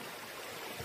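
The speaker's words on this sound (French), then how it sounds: "la rivière qui coule en bas" A river flowing below a forest path near the Piley waterfall in the Jura, its water a steady, faint broadband rush with no distinct splashes, heard at a distance and alone.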